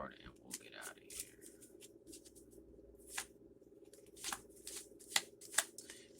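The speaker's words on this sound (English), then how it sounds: "let's get one more message out of the tarot, then we'll pull an oracle card" Tarot cards are shuffled in quick riffling bursts, with soft papery flicks and snaps that grow sharper toward the end over a low steady background.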